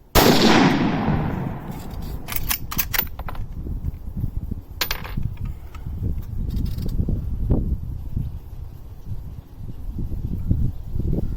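Outdoor shots from a PTR 91 rifle, an HK 91 clone, with a loud opening crack and long ringing decay, then scattered sharp distant reports over a rustling background.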